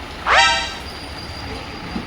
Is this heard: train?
yes